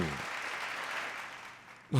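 A burst of crowd applause swells as a steady, dense wash of clapping that gradually thins, then is cut off by a voice starting at the very end.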